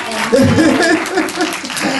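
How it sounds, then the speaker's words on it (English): A brief round of clapping for a guest during an online Africa Day talk show, mixed with voices talking over it throughout. "A round of applause for her."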